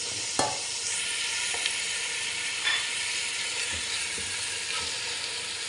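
Chicken drumsticks dropped into hot oil for Filipino afritada sizzle loudly and steadily, broken by a few sharp clinks and scrapes of utensils against the pan.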